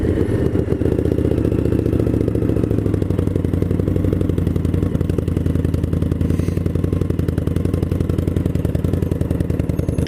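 A 2016 Indian Scout motorcycle engine running while riding, a loud, continuous, rapid-firing mechanical drone with dense rhythmic pulsing, heard close and steady throughout with no talk.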